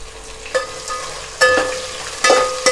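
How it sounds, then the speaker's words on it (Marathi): Capsicum frying and being stirred in a pan for veg biryani, a close, steady sizzle broken by three louder stirring scrapes and clatters, with no talking. "आता आपण यामध्ये ॲड करूया शिमला मिरची"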